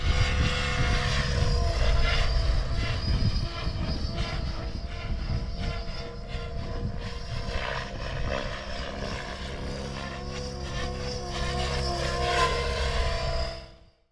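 Model helicopter flying a high-speed pirouetting funnel around a medium-sized circuit in 3D freestyle flight, a steady loud rotor and engine drone with rising and falling pitch throughout, cutting off at the end, no talk.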